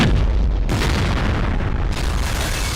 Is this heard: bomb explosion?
yes